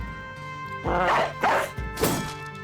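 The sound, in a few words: war dog barking in video game Battle Brothers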